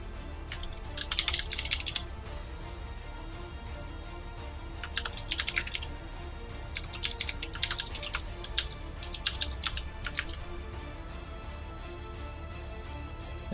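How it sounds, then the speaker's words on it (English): Quick typing on a computer keyboard during a livestreamed game tournament, arriving in several separate bursts of rapid clicking over steady low background hum, with no one speaking. "while I'm busy typing in chat"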